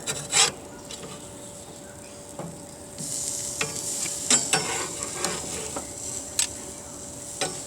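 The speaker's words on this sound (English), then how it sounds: "we're going to flip these onions over" Onions flipped on an outdoor grill with a spatula, scraping and clanking against the grate in several sharp strokes over a steady sizzle that grows louder after the turn.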